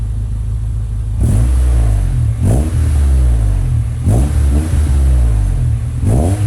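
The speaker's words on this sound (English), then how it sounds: "Now let's hear when I rev it." A Honda Civic EG fitted with a Yonaka catback exhaust idles with a deep rumble, then revs four times in quick blips, each rising and falling sharply, loud and close.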